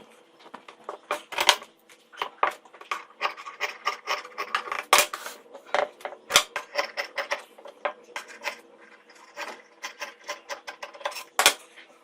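Scissors snip and rasp through fabric along a freshly sewn boat neckline with piping, close and quiet, in irregular bursts of crisp cutting strokes with brief pauses between.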